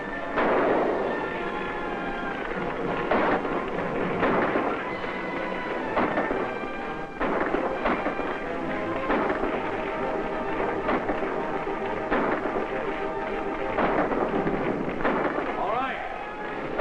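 Gunfire rings out in a shootout from an old serial film, with repeated sharp shots and bursts scattered across the stretch amid shouting voices and general commotion.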